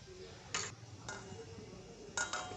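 A metal lid set half-open on a pot of fish curry gives two or three faint, light clinks over a quiet kitchen hum, with no talk.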